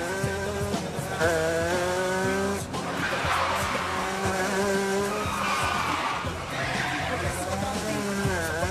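A car brakes hard during a driving lesson in the Italian comedy film Fausto e Furio, its tires skidding and squealing in a long, wavering screech under loud, busy music and shouting voices.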